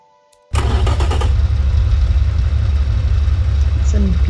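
A 60-degree V engine in the Automation car game cranks and catches after a brief quiet moment, then settles into a loud, steady, low rumbling idle that holds to the end.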